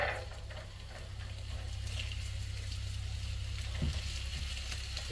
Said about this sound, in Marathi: आनी आतां हांव कॅरेट आनी भाजून घेता.